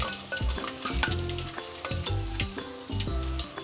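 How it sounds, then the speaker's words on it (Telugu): Eggs fry in oil in a pan for a yam and egg curry, with a close, steady sizzle broken by scraping stirs and turning sounds, no voices. "ఇలా దోరగా వేగిన తర్వాత గుడ్లు వేగిపోయిన తర్వాత తీసేసుకుని పక్కన పెట్టుకోవాలి"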